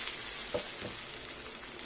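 Steady hiss of mushrooms frying in a hot pan, with a couple of soft scraping stirs partway through, close and continuous, no speech.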